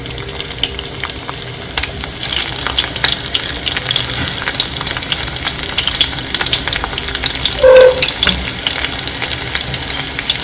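Five or six cut garlic cloves fry in hot oil in a pan, giving a steady, loud, close crackling sizzle with a short bubbling burst partway through.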